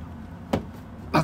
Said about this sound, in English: then we just need to clip this on to the actual wheel arch.